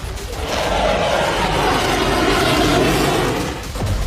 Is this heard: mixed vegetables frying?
no